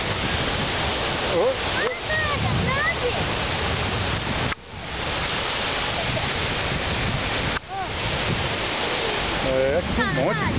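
Ocean waves at Enoshima beach in Kanagawa make a continuous broadband roar with surges and brief dips, while people talk and exclaim over the water.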